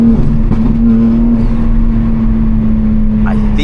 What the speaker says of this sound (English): Windows opens better, but you can also hear the wind coming in